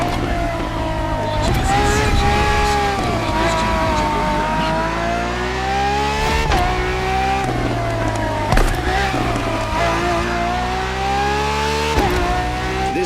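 A Ferrari FXX K engine in The Crew Motorfest howls loud and high as it climbs through rising rev sweeps, drops sharply on each gear change, and gives a brief tire squeal. A narrator talks over it.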